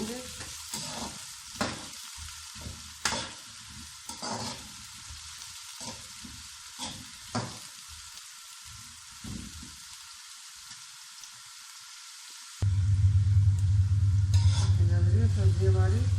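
Pumpkin and other vegetables fry and sizzle in a pan while a spoon stirs with sharp, repeated scrapes and knocks; near the end a loud, steady hum sets in over the sizzle.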